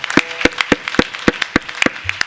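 Audience clapping for the young people at a comedy kirtan gathering in a village: a series of sharp, evenly spaced claps, loud and close, with no talk.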